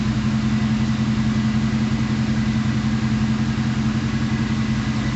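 A Dodge Dakota engine runs at a steady idle with oil spilled on the exhaust manifold, a loud, even, continuous hum and rumble close by with no voices.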